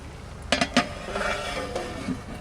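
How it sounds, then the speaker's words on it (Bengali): A metal fish tiffin box set down into a clay cooking pot of rice, giving two or three sharp clinks close by, followed by a softer scrape and settling knock. "মাছের টিফিনটা বসিয়ে দিচ্ছি"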